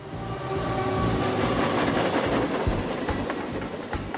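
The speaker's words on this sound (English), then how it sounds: "he can hear the train as it goes by" A train passing by near an old tin barn northeast of Oklahoma City, a steady rumbling roll of wheels on rails that swells and holds for a few seconds, with no voices.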